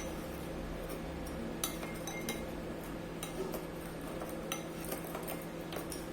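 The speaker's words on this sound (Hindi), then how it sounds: "एक बार मिक्स कर लेती हूँ।" A spoon stirs khaman dhokla batter with white vinegar in a bowl, making steady light clinks and scrapes against the dish. A low hum runs underneath the whole time.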